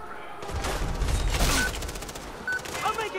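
Gunfire in the Far Cry 3 video game, a quick cluster of shots and a booming impact mid-clip, moderately loud amid game noise.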